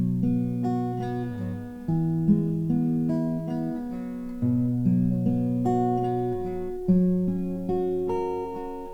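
Fingerstyle acoustic guitar picks out the opening of Amazing Grace on three chords, clear plucked notes in a slow, even arpeggio pattern, close and clean with no voice.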